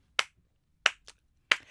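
A mother clapping her hands inside a car, three sharp separate claps about two-thirds of a second apart, close and crisp against a quiet background with no talking.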